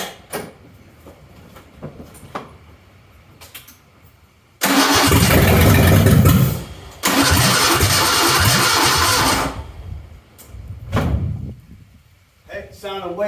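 A barn-find Ford Bronco II engine cranks and fires after an intake cleaning, roaring loudly and steadily for about five seconds before cutting off, with a brief dip partway through and quieter bumps and voices around it.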